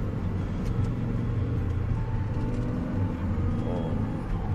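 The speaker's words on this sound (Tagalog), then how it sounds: "tumatakbo na po ang sasakyan" A car engine running while driving along a highway toward Dammam, a steady low rumble with road noise droning evenly and continuously, with no talking.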